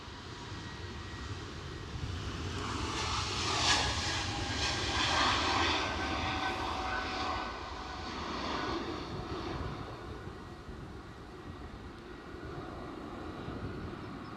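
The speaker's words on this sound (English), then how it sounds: "No time to lavish gaze on that 757." Boeing 757 jet at Edinburgh Airport, a distant engine roar that swells to a peak and then slowly fades, heard alone.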